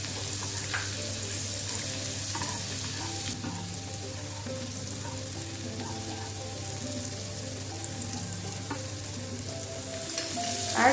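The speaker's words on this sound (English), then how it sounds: "we will now add the remaining chopped garlic and saute for a few seconds." Chopped garlic sautés in butter in a hot pan, giving a steady, close sizzle with faint crackles throughout and no voices.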